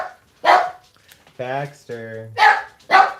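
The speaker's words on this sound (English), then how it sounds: "doggies might get loud" Several sharp, loud dog barks come in spaced bursts, with a person's voice speaking briefly between them indoors.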